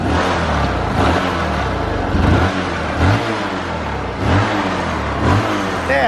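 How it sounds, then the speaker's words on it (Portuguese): A 125cc motorcycle engine, stock with a 4mm-oversize piston, runs steadily nearby, its mid-pitched drone swelling in a few brief revs, with no talking. "Olha o barulho do motor."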